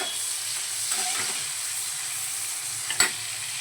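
Grated ginger and green chilies with masala hiss softly in a pan and are stirred, giving a low steady sizzle with a few scraping clinks of the spoon and one sharper knock near the end. No talking.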